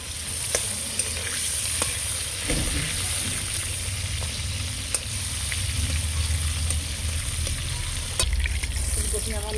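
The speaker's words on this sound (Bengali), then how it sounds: "আমি লাল করে ভেজে নেবো" Steady sizzle of food frying until browned, with occasional stirring scrapes and clinks, close and continuous throughout, with a low rumble swelling near the end.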